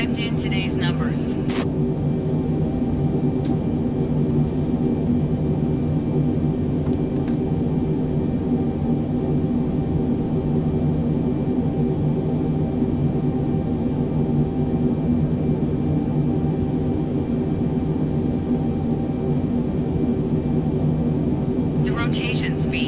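Airbus A320neo jet engines during takeoff in Microsoft Flight Simulator 2020 hold a steady, loud rumbling drone with a faint tonal hum throughout, broken only by a few light clicks near the start and end.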